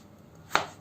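A single sharp knife chop through a potato onto a cutting board, close and crisp, with quiet room tone around it.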